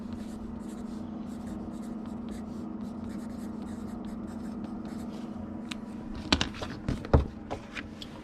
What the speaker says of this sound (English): let me write the do not bend on it so it can dry.